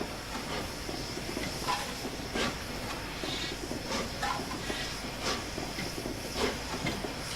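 The Flying Scotsman steam locomotive pulls away in Train Simulator with the blower on, a steady hiss of steam over a low rumbling rail noise, broken by soft rhythmic chuffs and a few faint clanks.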